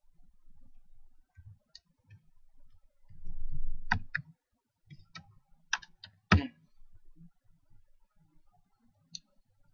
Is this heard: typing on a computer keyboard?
yes